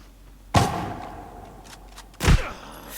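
Gunfire in the online shooter Arena Breakout: two loud, close, sharp shots about two seconds apart, each with a ringing tail, and faint distant pops between them.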